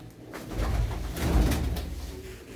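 Pigeons coo in low, throaty, repeated calls close by in a loft of kept pigeons, with light rustling and no speech.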